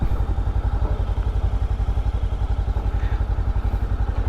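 A motorcycle engine idles with a steady low, rhythmic putter at close range while the bike is turned and maneuvered into a parking spot, with faint clatter and thumps over the throbbing exhaust.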